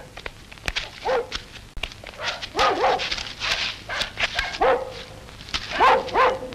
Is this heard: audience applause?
no